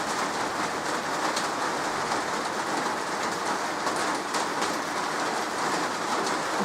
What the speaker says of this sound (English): I hear the rain on my roof.